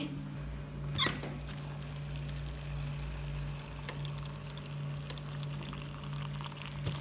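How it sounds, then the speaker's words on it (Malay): Hot water poured onto ghost pepper instant noodles, a steady broadband pour that starts with a sharp splash around one second and continues evenly to the end, close and moderately loud, with no talking. "kita akan masukkan air panas"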